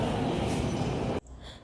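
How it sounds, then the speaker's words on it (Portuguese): A train at Universal Studios Orlando theme park rumbles loudly and steadily close by, with rattling wheels and a hiss, then cuts off abruptly to quiet background. "Vamos pegar o trenzinho agora."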